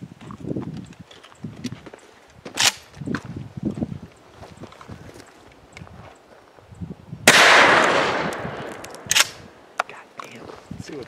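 Gunshots are fired at a 3A bulletproof vest outdoors, with a few sharp, loud cracks spread over several seconds. One blast has a longer rumbling tail, and quiet voices and movement come between the shots.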